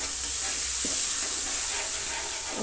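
Taro sizzles softly in a pan with yogurt, giving a continuous steamy frying hiss with faint stirring touches, heard close and alone.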